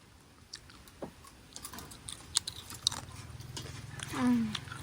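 Someone chews crispy fried banana close up, with faint, crunchy bites and clicks scattered irregularly over a quiet background.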